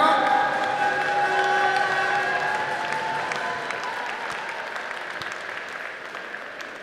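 Audience applause fills a medal ceremony at the 7th Vovinam Viet Vo Dao World Cup, a dense burst of clapping that gradually tapers off, with crowd voices mixed in underneath.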